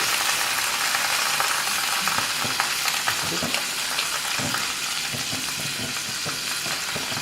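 Kerala-style fish frying in coconut oil just after being flipped, a loud, dense sizzle close up with crackling pops and a few scraping clicks, steady throughout and heard alone.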